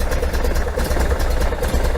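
1973 VW Super Beetle engine running after being fired up to check for oil leaks: a close, steady air-cooled flat-four idle with an even, slightly rough rumble throughout.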